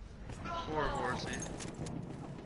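Horse hooves clip-clop faintly in a multiplayer video game, a soft, steady rhythm of dull thuds largely buried under close conversational talk.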